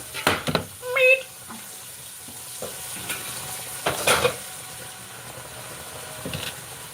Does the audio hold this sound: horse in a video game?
no